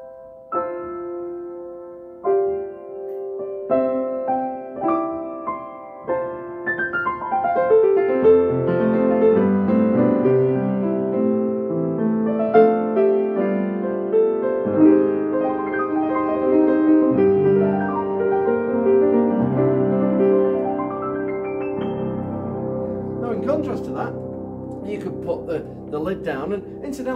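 A refurbished Yamaha U1 upright piano in a polished ebony cabinet is played alone, with clear single notes and chords giving way to flowing, rising runs and sustained harmonies, then lighter high notes near the end.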